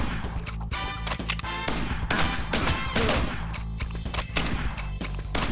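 Shots ring out in a light gun arcade video game, sharp bursts fired in rapid, uneven succession with crashing impacts between them, loud and close over a steady background hum.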